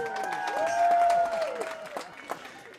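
Crowd at a WIAA girls soccer sectional final between Oregon and Union Grove bursts into a brief, moderately loud roar of cheering and applause after a goal, with a few shouts mixed in before fading.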